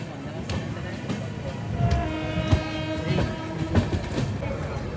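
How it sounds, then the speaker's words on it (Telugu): Aboard the Ratnachal Express with LHB coaches as it eases slowly into Rajahmundry railway station, wheels rumble and clack at a low pace while a drawn-out horn tone sounds faintly in the distance. "మెల్లగా ఎంటర్ అవుతున్నాం రాజమండ్రి రైల్వే స్టేషన్కి."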